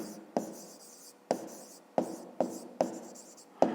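A pen writes by hand on paper during a fifth-grade math exercise, making quiet, close scratching strokes that begin with sharp taps and trail off, repeating in an uneven rhythm.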